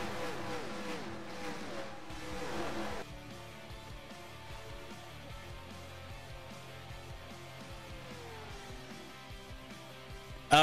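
Engines of race cars, including the #6 car of Team CRUSH, hum steadily at a distance. The tone shifts and glides in pitch, and the sound is louder in the opening seconds before settling to a lower drone.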